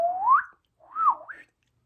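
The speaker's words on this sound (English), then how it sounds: "That's what it sounds like when I try to whistle." Two short, breathy whistles with wavering, upward-sliding pitch, separated by a brief pause; an unsteady, amateurish attempt heard up close.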